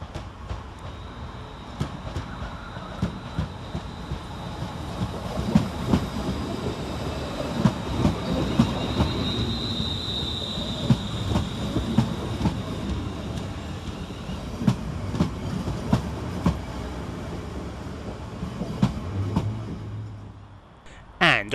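A West Midlands Railway Class 350 electric passenger train rumbles slowly through Walsall station, with rhythmic wheel clicks, a faint brake squeal and a low engine drone, steady for a long stretch.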